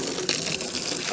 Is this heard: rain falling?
no